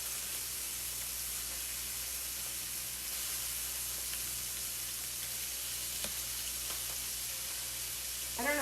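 Seasoned shrimp fry in a pan for a low-carb shrimp and faux grits dish, giving a steady, even sizzle and hiss throughout, with a faint clink near the end and no talking.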